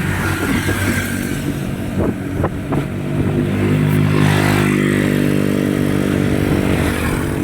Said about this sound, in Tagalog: salubong natin yung mga malalaking trucks